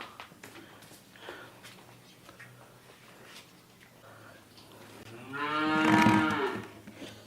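A dairy cow at a farm gives one long, loud, close moo near the end, after quieter stretches of barn noise and shuffling.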